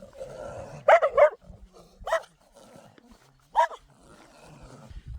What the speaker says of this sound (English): So I keep running into dogs. Dogs everywhere.